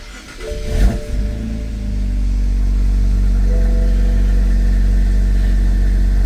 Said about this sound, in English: Turn your ignition on. We gotta start it.